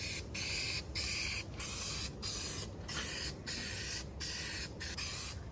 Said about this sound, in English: we're gonna give a nice even coating across this entire piece